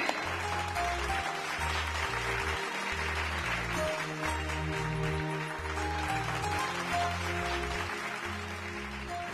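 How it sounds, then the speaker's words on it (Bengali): Audience applause at a neighbourhood stage contest, a broad wash of clapping that runs steadily throughout, blended with loud rhythmic music and a pulsing bass beat. "সকলে জোরে হাততালি দিন।"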